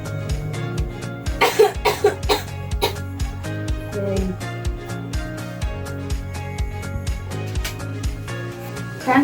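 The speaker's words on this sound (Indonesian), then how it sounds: "Nanti yang keempat kali ambil nafas Adek lalu batuk ya." A teenager with COPD performs an effective coughing exercise during nursing care, producing several sharp, close coughs in a repeated rhythm over a tonal background.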